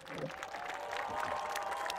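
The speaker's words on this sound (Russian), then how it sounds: "Лучшей благодарностью участникам сегодняшней реконструкции будут ваши аплодисменты." Spectators give a short, faint burst of applause after a staged battle reenactment at the Seliger forum. The clapping is soft and distant, with light crowd noise, and lasts about two seconds.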